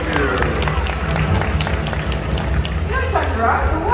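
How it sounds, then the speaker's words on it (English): An audience at an outdoor bird show with a white-bellied sea eagle applauds in a dense, sustained patter of clapping, with crowd noise and some voices mixed in. "Another big round of applause for Nelson,"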